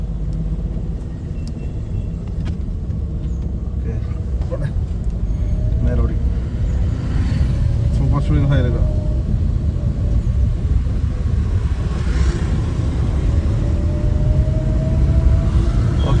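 A car engine drones under an instructor's voice during a beginner's driving lesson, with a constant loud, low rumble from inside the cabin that swells slightly as the vehicle speeds up.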